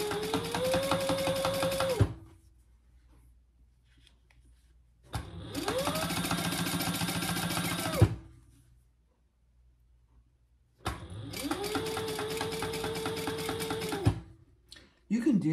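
An electric sewing machine stitches fabric for a laptop or iPad case, including a few backstitches over earlier seams, running in three loud steady bursts of about three seconds each, with near silence between them.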